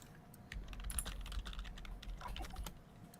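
Soft clatter of typing on a computer keyboard during an online Star Wars tabletop game session, quick irregular key taps heard faintly over a low hum, with no talking.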